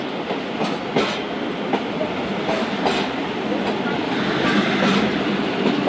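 Zakariya Express passenger train running on rails, a steady dense rumble with faint clickety-clack of wheels over joints, close and continuous with no talk.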